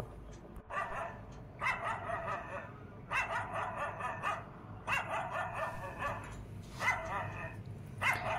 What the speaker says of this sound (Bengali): দূরে কোথাও বিশ্রীভাবে একটা কুকুর ডাকছে।